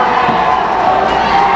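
Home crowd at a high school boys basketball game, St. Pius X against Sedalia, cheering and shouting in a loud dense roar that holds steady throughout.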